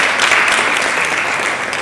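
A crowd claps steadily and loudly at a tech-for-girls panel event in Accra, Ghana, a dense, even burst of applause throughout.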